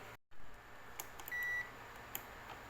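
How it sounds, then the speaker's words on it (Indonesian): A multimeter set to its continuity buzzer range beeps while testing a diode in a JVC amplifier power supply: one short, steady electronic tone sounds near the middle, with faint clicks from the probes before and after it. "Pertama, kita ukur, arahkan ke skala beep atau buzzer."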